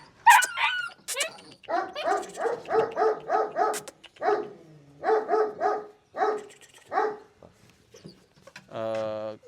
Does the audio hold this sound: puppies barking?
yes